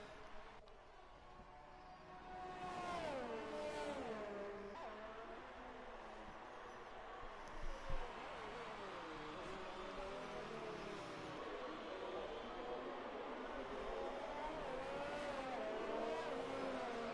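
An F1 race car on a hot lap in a racing video game, engine pitch rising and falling through gears at a steady loud level, with faint tire noise and a brief thump partway through.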